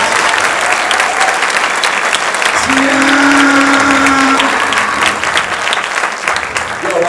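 Steady, full applause from a theater crowd at a live comedy contest fills the clip, dense and continuous throughout, with a sustained voice or cheer rising briefly above the clapping midway.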